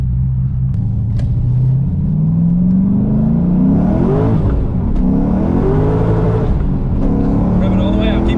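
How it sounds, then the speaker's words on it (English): A car engine revs hard toward a redline around 9,000 rpm, its pitch climbing in long sweeps and dropping between pulls, loud and close with a steady rumble beneath, while people talk over it. "Rev it all the way out. Keep going. Keep going."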